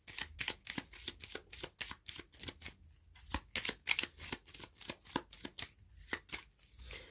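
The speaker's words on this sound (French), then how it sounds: "Je vais tirer des cartes du Lenormand et des Charms." Lenormand and Charms divination cards being shuffled by hand, a steady run of crisp riffling bursts close up with no voice over them.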